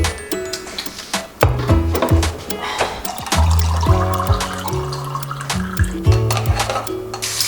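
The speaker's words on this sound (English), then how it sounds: "Jars are being cleaned before I'm going to fill them up again." Water runs and splashes while jars are washed at a sink, with clinking glass knocks and bumps scattered through a steady stream.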